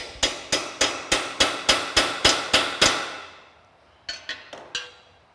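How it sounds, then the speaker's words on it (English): Metal rivet head being peened flat with the dome-shaped end of a hammer: about ten sharp, evenly spaced ringing strikes, close and loud, then a pause and three or four lighter taps. "I'm going to use this dome-shaped end to flatten this thing down"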